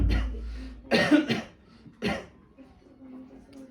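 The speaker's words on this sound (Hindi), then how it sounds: "सुबह से काफी खांस रहा है तू।" A person coughs in a few harsh bursts, two clustered together and a single one after, with quiet breathing and room noise in between.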